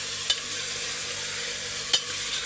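Freshly ground ginger garlic paste frying in a pot for mutton dum biryani, giving a steady, even sizzle with two sharp clicks of a utensil against the pot.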